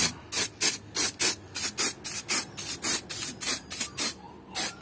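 An aerosol can of Plasti Dip sprays in short, even bursts onto a Honda Civic EG hatchback's Rota Slipstream 16-inch rims, about fourteen close, loud hisses in a regular rhythm separated by brief pauses.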